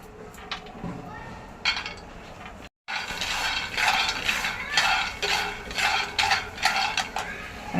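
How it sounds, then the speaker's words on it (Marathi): Peanuts dry roasting in a pan over a low gas flame at home, giving a steady run of dry rattling, scraping and clinking as they are stirred, with a brief silent gap partway through. "शेंगदाणे भाजून घेऊया मंद गॅस एक वाटी शेंगदाणे मी प्रथम भाजून घेते"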